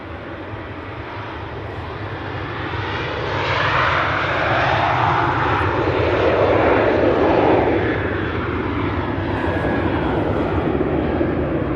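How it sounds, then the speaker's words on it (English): A Ryanair jet starts its takeoff roll on the runway at Manchester Airport, a loud sustained engine roar that swells and sweeps through the middle of the clip, then holds steady under a broad rumble. "Ryanair on the roll."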